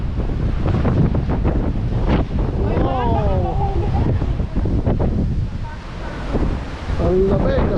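Strong wind and surf roar along the Atlantic coast, a steady loud blustery wash with people talking and exclaiming over it throughout.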